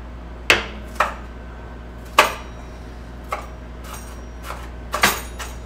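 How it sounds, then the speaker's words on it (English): A knife chops onions on a cutting board in a home kitchen, with sharp, separate knocks spaced irregularly, some louder and closer than others, and no talk between them. "Chopping up the onions smaller won't hurt if they're supposed to be diced."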